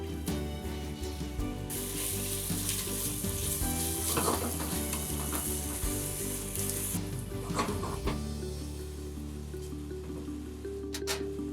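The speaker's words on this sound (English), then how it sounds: "We just only oil, but it's nicely frying." Steady, loud sizzling and crackling of beef frying in hot oil for Hungarian goulash, with occasional stirring clatter and no talking.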